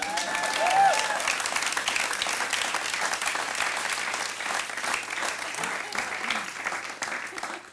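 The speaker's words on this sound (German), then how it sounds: "Applaus für den Techniker, bitte mal kurz." Comedy show audience applauding the stage technician, a dense, sustained burst of clapping from a full room that holds steady and then thins slightly near the end.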